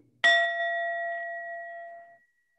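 A single strike of a memorial bell at a community service awards ceremony, a clear, bright ring that sustains and fades away over about two seconds, with no voices.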